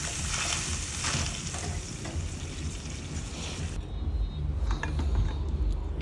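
Grated carrot and cashews fry in a pan for carrot payasam, giving a steady, close hiss of sizzling that eases slightly partway through, with low rumbling handling noise underneath and no talking.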